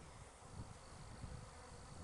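Honey bees hum and drone steadily around an open hive, a dense, continuous low buzz with no talking.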